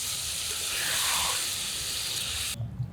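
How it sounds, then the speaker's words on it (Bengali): Carp fish curry in a small amount of water coming to a boil in a pan, giving a steady close bubbling hiss that cuts off abruptly near the end, followed by faint low knocks. "বলক এসে গেছে"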